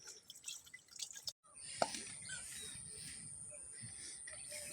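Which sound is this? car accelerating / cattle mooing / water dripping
water dripping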